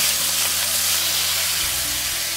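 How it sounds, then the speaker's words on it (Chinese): Razor clam meat sizzles loudly in hot oil with scallion and garlic, a steady, close hissing fry that carries on without pause. "爆香以后，我们把蛏子肉加进去"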